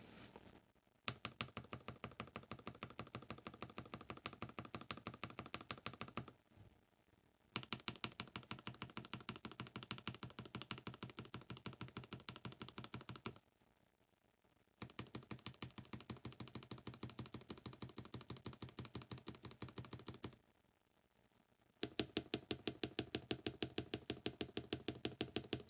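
Fast, even typing on an NK87 Entry Edition keyboard fitted with lubed Durock V2 stabilizers, heard close as dense keystroke runs broken by three brief pauses, with no voices.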